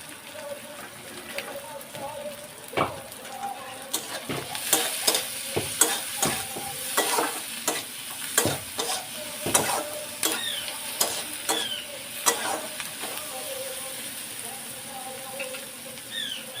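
Shrimp heads and other ingredients for a shrimp-head bhorta fry and get stirred in a pan, with close sizzling and repeated scraping and clatter of a spoon throughout.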